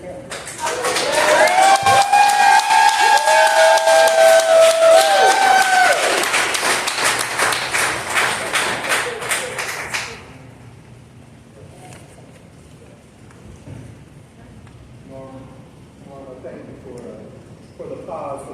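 At a 2024 African Americans Who Make A Difference celebration, loud sustained clapping and crowd noise mixed with music fill the first ten seconds, then cut off, leaving quieter murmuring and talk.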